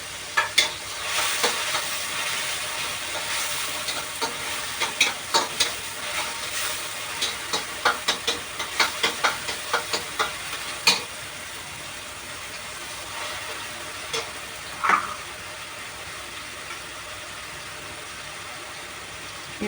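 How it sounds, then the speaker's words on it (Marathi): Coriander and curry leaves fry in hot oil for a stuffed eggplant filling, giving a steady broadband sizzle punctuated by repeated sharp clicks and scrapes of stirring, with a few louder knocks along the way; no one speaks. "आणि आता ही कोथिंबीर थोडी त्यात पण घालणार आणि थोडीशी ही तेलामध्ये टाकणार."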